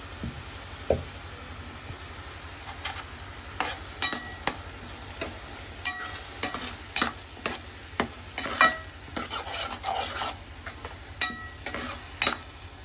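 Chopped tomatoes and onions sauté in a pan while a spoon stirs them, giving a soft steady sizzle broken by repeated scraping and knocking of the utensil against the pan.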